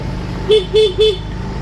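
Three short, evenly spaced toots from a car horn sound close by over a low idling vehicle background, each honk bright and clipped.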